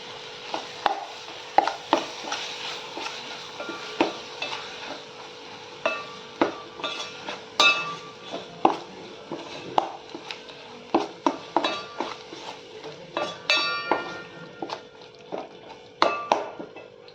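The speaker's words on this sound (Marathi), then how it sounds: "चांगला मसाला परतून झाला आहे आपला" Onion-coconut masala paste being sautéed for a Malvani dried mori fish dish, with a busy series of sharp metal spatula scrapes and clinks against the pan over a low steady sizzle, close and fairly loud.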